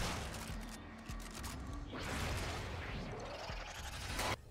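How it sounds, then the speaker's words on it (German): A shrinking energy sphere in the game Warframe explodes in a burst of crackling, booming noise with sweeping whooshes and a sharp final blast, loud and chaotic. "Mit der Zeit wird die Kugel kleiner, bis sie explodiert und Schaden anrichtet."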